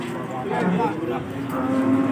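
A cow moos with a drawn-out, low bellowing call, close by and fairly loud, with some background farm noise.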